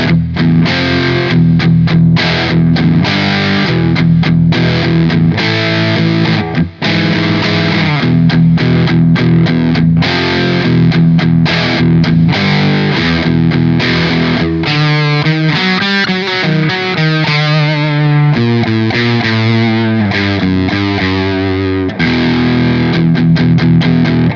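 Distorted electric guitar runs through a Two Notes Torpedo Captor X on a scooped DBG preset, playing loud, continuous chugging riffs and chords that shift into faster single-note runs, with no talking.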